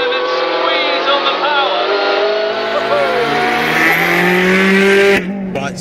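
Hyundai i30 N race car cornering hard on a track, its engine a loud, steady high-pitched howl with shifting pitch sweeps as it turns in, cutting off abruptly near the end while someone talks over it.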